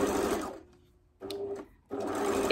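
An overlocker stitching fabric for a bowl cover whirs in two loud, steady bursts separated by a brief pause, with no talking.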